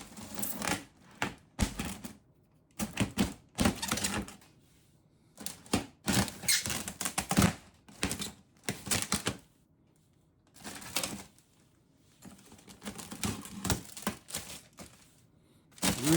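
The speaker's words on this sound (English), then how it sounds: "About to crack this thing open and lay out all the figures right here." A container of vintage TMNT figures is cracked open and handled, with repeated loud plastic clacks, rattles and crinkling in irregular bursts separated by short quiet gaps, heard close up.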